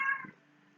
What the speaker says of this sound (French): il y a mon chat qui veut sortir